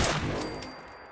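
A new gun fired by the player in Fallout 4 lets off a short, loud burst of rapid shots that trails off into a fading ringing echo.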